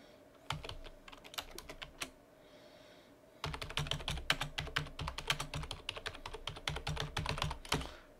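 Close computer keyboard typing Python code for a Django blog view, quick irregular key clicks in bursts with a short pause before a longer, steady run of keystrokes.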